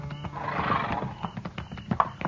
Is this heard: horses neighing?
yes